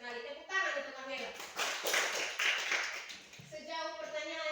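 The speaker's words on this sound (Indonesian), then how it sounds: "Tepuk tangan untuk Angela." Schoolchildren in a classroom clap briefly for a classmate named Angela, a short burst of clapping in the middle, with a teacher talking before and after it.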